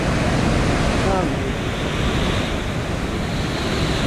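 Rushing flood water at a crossing too dangerous to wade, a steady broadband roar of churning current filling the whole clip, close and loud, with a brief voice in the middle.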